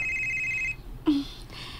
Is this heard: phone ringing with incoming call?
yes